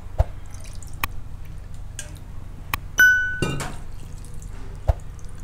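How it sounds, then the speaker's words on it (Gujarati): Half a cup of water poured from a small bowl into a batter of wheat flour, semolina and yogurt, heard as a short splashy pour with scattered drips and light clinks of the bowl against the vessel. "આપણે 1/2 કપની વાટકી છે તો એટલું પાણી નાખ્યું છે"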